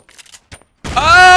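Gunfire erupts from behind in a sniper shooter game, a dense burst of rapid shots arriving after a few short clicks and brief silence, loud and sustained to the end.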